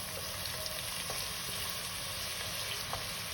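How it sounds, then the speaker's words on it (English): Onions frying in a pan for dhaba masala chicken: a continuous even sizzle with small crackles, close and moderately loud, no talking. "Just fry it. This takes about 2-3 minutes. Just fry it nicely."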